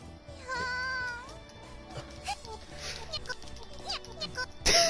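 A cat character in the video game Nekopara meows while being petted, with high, sliding voiced mews over game music and sound effects, and a person talking faintly in the background.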